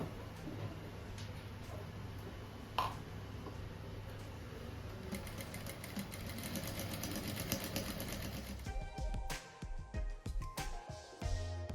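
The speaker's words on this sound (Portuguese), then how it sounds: "Aqui eu vou devagar, porque eu nunca costurei viés nessa máquina" A new sewing machine stitching bias binding onto a simple rug, a faint, slow mechanical whir that speeds into a quicker rhythmic stitching chatter toward the end.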